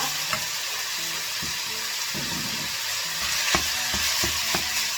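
Beef sizzles steadily as it is stir-fried in a pan for bolognese sauce, with several sharp scrapes and knocks of a spatula against the pan. The sound is close, with no talking.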